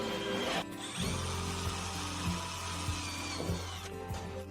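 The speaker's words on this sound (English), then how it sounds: "Drill through the outer plate and the reinforced plate behind." Power drill boring holes through the outer and reinforced panels of a Ford Custom van, a steady high whine with brief bumps and catches, close up and alone.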